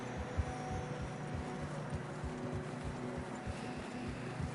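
Horses walking through heavy snow in a Red Dead Redemption 2 scene, a steady run of soft, regular hoof thuds under a faint windy hiss.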